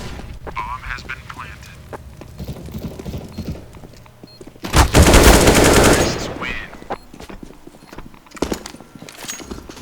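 Gunfire from the video game Counter-Strike: Global Offensive: a loud, dense burst of rapid shots lasting about a second, with quieter game sounds and some speech around it.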